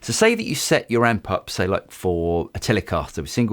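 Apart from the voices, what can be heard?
None of the usual background noises is heard.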